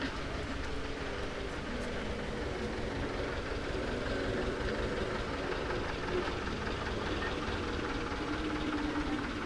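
A passenger train pulls into a station platform in Rourkela, a steady loud rumble of wheels and carriages running throughout without a break.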